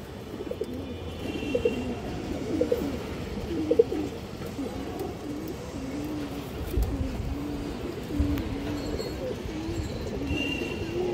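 A flock of fancy pigeons coos nearby in a continuous, layered rolling murmur, with faint voices underneath.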